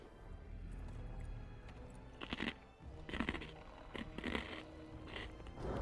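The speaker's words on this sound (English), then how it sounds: "I'm sorry for the crunchy noises if anyone's annoyed by them. I need some snacks." Crunchy snack being chewed close to the microphone, several short crisp crunch bursts in the second half over a low game background.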